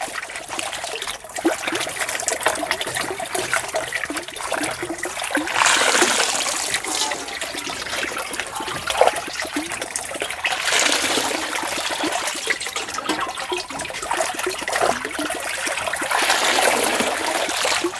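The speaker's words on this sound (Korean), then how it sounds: "그냥 찬물에 이렇게 식히는 겁니다." Boiled wild greens (daisy fleabane, foraged for drying) cooled under cold running water, a steady trickle and splatter that lasts throughout, with brighter splashy surges as the greens are moved through the stream; no talking.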